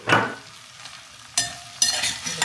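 A spatula scrapes and stirs okra with salt in a hot frying pan, giving one sharp scrape, a pause, then two more bursts of sizzling stirring, close and fairly loud with no talk.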